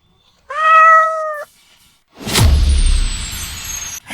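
A greedy stray cat picked up on a back hill gives one clear, drawn-out meow, followed after a short pause by a loud whooshing boom.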